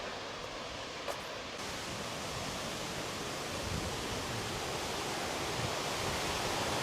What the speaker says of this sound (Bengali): আপনারাও অনুভব করুন এই প্রকৃতি পানির সাউন্ড